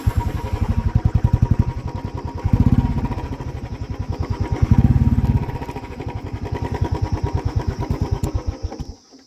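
A motorcycle engine putters steadily and fairly close with a rhythmic thumping idle, swelling a couple of times as it climbs the road toward Gorkha Durbar in Nepal, then cuts off at the end.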